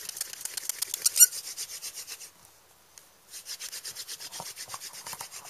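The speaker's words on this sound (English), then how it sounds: "I'm moving my hands back and forth to make the spindle spin" A bow-less hand drill fire starter: a wooden spindle spun between the palms rubs rapidly on a wooden board, a steady back-and-forth friction rasp with a brief pause partway through, close and moderately quiet.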